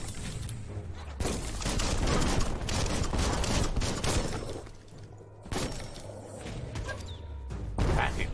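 Bomb lobber weapon firing in Biomutant, with bursts of blasts, crackling explosions and shattering debris in rapid clusters, broken by two short lulls before the noisy volleys resume.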